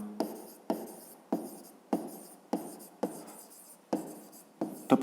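Handwriting during a fifth-grade maths exercise, heard as a steady series of about eight scratchy strokes in regular bursts, close and fairly quiet, with no talking.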